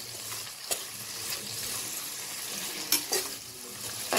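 Mixed vegetables and potato fry in hot oil with rock salt for a soya chunk biryani, a steady close sizzle broken by occasional scraping stirs and light utensil clinks, with no talk.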